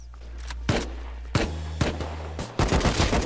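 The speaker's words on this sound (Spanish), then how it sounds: "Suenan súper silenciados los tiros" Several sharp, muffled suppressed gunshots in the video game Rust, in separate bursts, with a low steady hum and clatter between them; the shots sound dampened rather than loud.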